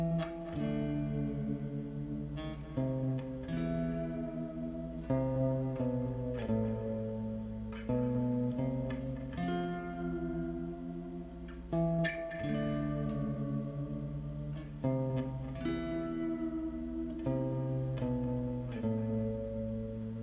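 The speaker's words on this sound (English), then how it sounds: "I like to put on a little bit of reverb or echo and use my whammy bar slightly just to get a little of that haunting sound that it has." Electric guitar played through reverb and echo with light whammy-bar bends, giving a haunting, shimmering tone; sustained chords and picked notes ring out steadily and fairly loud across the passage, with no voices.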